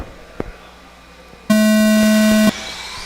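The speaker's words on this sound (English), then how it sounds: "Go at the sound of the tone" Electronic start tone for a stadium truck race, one loud steady beep held for about a second, sounding clearly over faint background ambience after a brief earlier click.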